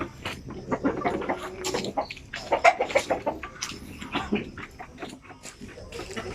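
Basilan and Sampen native chickens at a chicken farm cluck and squawk in a busy, overlapping chorus, with a dog barking among them and soft talk faintly underneath.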